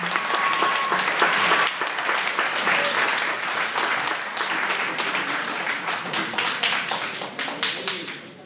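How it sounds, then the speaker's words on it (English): Sustained audience applause for musicians at a birthday cultural event, dense and steady clapping from a sizeable crowd throughout, fading slightly toward the end. "Let's give them a big round of applause"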